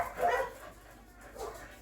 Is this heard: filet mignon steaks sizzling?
no